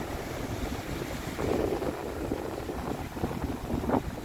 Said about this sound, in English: I'm in to see some waves picking up now, looking very bassy out there